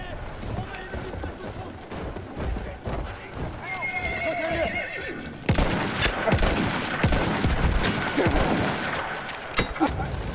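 Horse in Battlefield 1 multiplayer, with hooves clip-clopping close by and a whinny, all amid bursts of battlefield gunfire and someone talking over the action.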